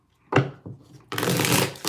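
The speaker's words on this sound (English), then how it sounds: "Let's get 3 shuffles here." Two bursts of card shuffling during a card reading: a short riffle, a brief pause, then a longer, louder, steady riffle running to the end.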